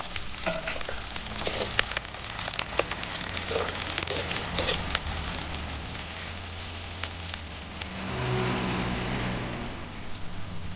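Small onions drop into hot groundnut oil with fenugreek for a fish curry, giving a loud, steady sizzle and crackle with scattered pops that runs the whole time, close up.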